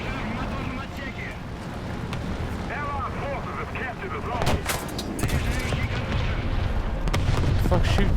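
Tank cannon fire and shell impacts on the player's vehicle in War Thunder ground realistic battles, heavy booms and rumbling hits over a steady engine drone, close and loud, with a person talking over it.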